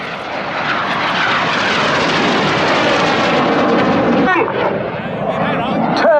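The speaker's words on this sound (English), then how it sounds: "The pilots put full power on the aircraft, pulling 6G." A display aircraft roars at full power on a low airshow pass at Yeovilton Air Day, the loud engine noise steady and close, then shifting slightly in pitch as it passes.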